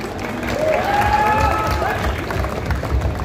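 An audience at a coaching centre event claps steadily, the applause swelling and holding through the whole stretch with scattered voices mixed in the crowd.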